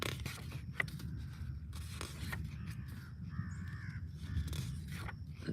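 Crows caw repeatedly at a distance in open air, harsh calls spread through the clip over low rumbling thunder.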